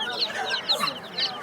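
Young chicks, some black and about a month old, cheep in high, thin chirps at the Qumtepa bird market, a scattered overlapping chorus close by.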